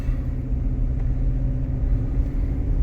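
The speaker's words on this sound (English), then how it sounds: "Uh-oh, spinning the tires." A Ford F-150 pickup truck's engine roars steadily on the road as it spins its tires, a dense, continuous low rumble that holds at full loudness for the whole stretch.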